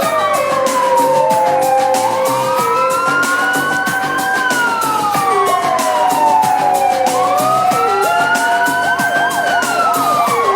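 An orange ambulance siren wails through stopped traffic in Tel Aviv after an accident, loud and close, with rising and falling tones that keep switching patterns over a constant road roar.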